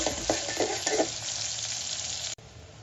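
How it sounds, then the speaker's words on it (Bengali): Onions fry in hot oil, a loud continuous sizzle with a few stirring bursts early on, close up and without speech, cut off abruptly near the end. "তেলটা গরম হয়ে গিয়েছে, এখন আমি পেঁয়াজটা দিয়ে দিলাম, দিয়ে একটু হালকা ব্রাউন হওয়া পর্যন্ত ভেজে নেব।"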